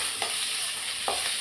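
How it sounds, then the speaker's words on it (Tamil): Onions sizzle in a pan with green chili, curry leaves and salt for a tomato thokku, a constant close frying hiss with two quick scrapes of a stirring spoon. "நல்லா வெங்காயத்தை வதக்கலாம்"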